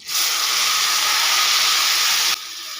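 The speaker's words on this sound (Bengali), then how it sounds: "ছটা মতো রসুনের কোয়া কুচি করে নিয়েছিলাম দিয়ে দিলাম আর দিয়ে দেবো দুটো শুকনো লঙ্কা একটু ভেজে নেব" Chopped garlic cloves and two dried red chillies hit hot oil in a pan for masoor dal, bursting into a loud, steady sizzling hiss that holds evenly for a couple of seconds, then drops to a softer simmer.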